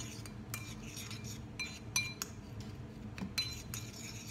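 A utensil stirs icing sugar with cinnamon in a bowl, making quick close clinks and scraping taps against the dish in an irregular rhythm, fairly quiet and without voices.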